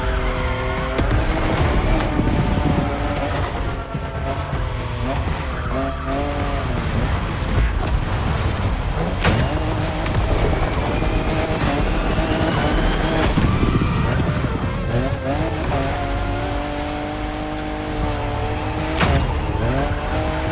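Toyota Supra, fifth generation, racing in The Crew Motorfest: a loud, steady engine note rising and falling through gear shifts, with bursts of tire squeal and skidding on turns and faint siren-like tones, no talk.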